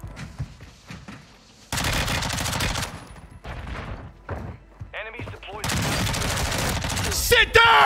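An MP5 submachine gun in Warzone 2, the Modern Warfare 2019 version fitted with a Merc 4 grip and 5 milliwatt laser, fires loud, rapid sustained bursts in several strings amid other game noise.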